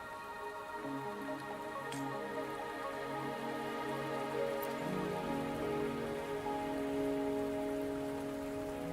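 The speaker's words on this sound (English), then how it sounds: "Don't worry, the rain won't last much longer." Steady rain in the video game Wuthering Waves patters continuously over a sustained musical tone, with a couple of faint clicks and no voices.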